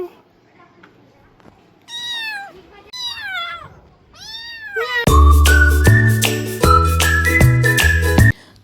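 A person imitates a cat's meow, then sharp rising whistle-like calls repeat, followed by a burst of loud music-like jingling tones.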